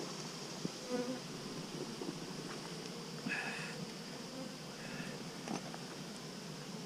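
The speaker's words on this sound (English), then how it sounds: "We have a ton of bees in this thing." A dense, steady drone of many honey bees buzzing close by in a hive, with individual bees flitting louder now and then over the constant hum.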